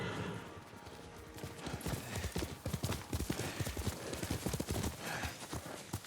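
Horse hooves clopping in Ghost of Tsushima: a quiet start gives way to a close, rhythmic run of hoofbeats with a brief neigh, growing steadier and louder toward the end.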